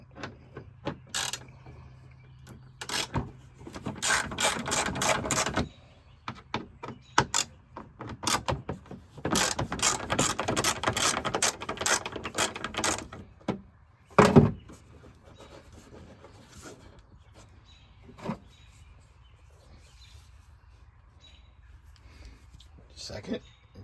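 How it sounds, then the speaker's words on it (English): A socket ratchet clicking as it turns a 4mm bolt on a 2024 Yamaha Wolverine side-by-side, in quick bursts of close, rasping ratchet clicks separated by quiet pauses and a few knocks of the tool. "So I got my sockets and my connections there. Let me get the socket on and I'll show you."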